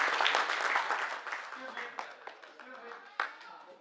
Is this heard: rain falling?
no